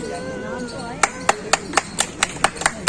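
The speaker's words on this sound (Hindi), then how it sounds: "तालियों से खुश हो रहे हैं सब लोग।" Applause at an Independence Day ceremony at the Bareilly collectorate, with a voice talking at first, then about ten evenly spaced loud claps in a steady rhythm.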